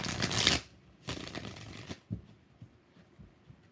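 Tarot cards shuffled in two brisk riffling bursts, close and crisp, followed by softer taps and card handling, with no voices.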